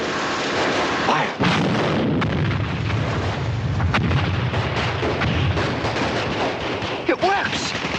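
A volley of soldiers' rifle and artillery fire rolls out in dense, loud, rapid bursts that overlap one another, with shouted voices among the blasts.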